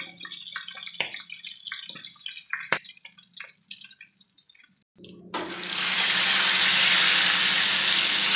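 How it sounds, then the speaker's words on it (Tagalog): Pieces of pork dropped into hot oil: scattered small pops and ticks at first, then a sudden loud, steady sizzle and spatter that continues to the end, with no talk. "bantay sa tilamsik kaya mainit"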